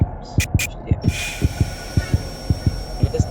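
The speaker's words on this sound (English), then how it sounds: "you hide in a closet for too long, you start heart beating" Steady heartbeat thumps from the Roblox horror game Doors, the warning that plays when a player hides in a closet too long, pulsing in regular doubled beats over a low hum, with no talking.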